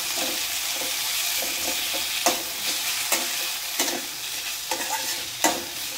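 Onion and tomato sautéing in a pan, a steady sizzle with a spatula scraping and stirring at regular intervals, close and fairly loud, no talking.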